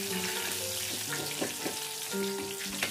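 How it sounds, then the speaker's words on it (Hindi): Chicken pieces deep-fry in oil over medium heat, giving a continuous dense crackling sizzle with scattered pops and faint stirring clinks, close and steady throughout. "तकरीबन 7 से 8 मिनट तक इन्हें फ्राई करना है दरमियानी आंच के ऊपर"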